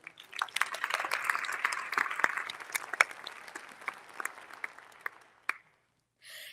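Audience applause for two high school red carpet hosts at an outstanding educators ceremony, a steady wash of clapping that fades out after about five seconds, followed by near silence.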